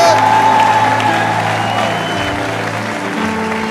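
A church congregation applauds and cheers loudly, a dense wash of clapping with whoops and voices layered over sustained musical tones, steady and close throughout.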